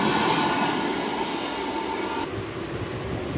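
A passing train rumbles steadily beside a moving MMTS local train near Hyderabad, a loud continuous roar of wheels and carriages with no speech.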